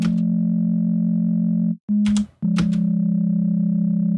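Two sine waves a minor third apart run through distortion, giving a steady buzzing tone rich in extra harmonics that cuts out twice briefly and resumes, loud and alone.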